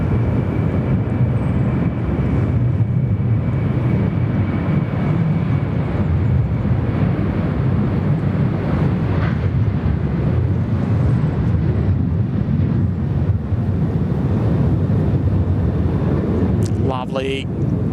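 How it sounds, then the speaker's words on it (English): A Qantas Boeing 737 airliner passes at Sydney Airport, a loud, steady engine roar that stays constant throughout, with wind buffeting the microphone and voices heard at times. "Here comes a Qantas 737."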